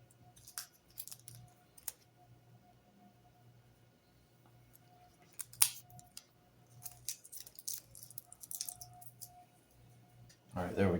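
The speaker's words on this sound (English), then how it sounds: "now we can flip it over and use our utility blade" A utility blade trims excess foam tape from a foam RC delta-wing plane, making faint, sparse scraping cuts and clicks in a quiet room, with a low voice in the background.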